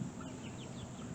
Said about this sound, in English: We got chickens on the loose.